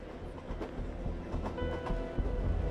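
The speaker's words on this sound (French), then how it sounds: "Les derniers trains de festivaliers sont tout juste repartis" A train carrying festival-goers rolls away on the rails, with steady rumbling and rhythmic clickety-clack wheel knocks, continuous and moderately close, with no voices.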